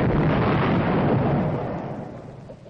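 A large industrial explosives blast roars as a dense, broad rumble that stays loud, then slowly decays and thins out toward the end, with no voices.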